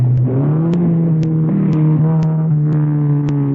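A car engine in a radio drama runs as a loud, steady hum, with its pitch rising slightly early on and then holding. Sharp, regular ticking clicks recur about every half second over it.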